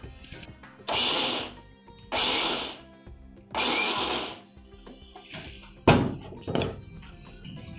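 A mixer grinder grinds wheat rava (godhumai rava) for adai in four loud pulses of roughly a second each, separated by short pauses. Clattering knocks follow, with quieter handling sounds between.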